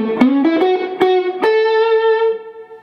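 An electric guitar with light distortion plays a short, harder lead phrase, with a few quick picked notes sliding up into a long ringing held note, close and solo.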